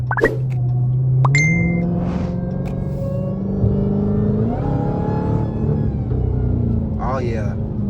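Dodge Challenger Hellcat Jailbreak V8 fitted with a Legmaker intake, revving and holding a loud, steady supercharger whine with rising pitch steps, close up, as someone talks excitedly over it.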